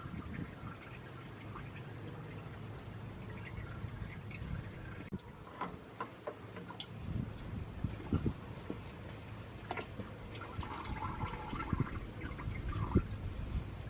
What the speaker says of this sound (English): So as you can see, it drains out back there when you take the filter off